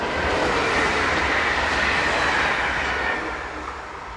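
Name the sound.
SNCF Z26500 electric train unit heading for Chartres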